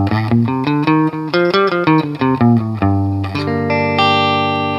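An electric guitar with a gritty, effected tone plays a quick series of picked notes, then lets a final minor chord ring out.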